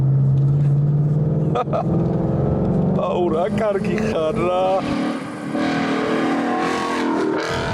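A car engine drones and rises as it revs, a steady rumble underneath, while a person speaks briefly over it midway.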